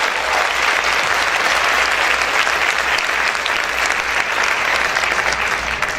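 A church congregation applauds loudly and steadily, a dense wash of clapping from many hands that holds at full strength throughout, with no voices rising above it.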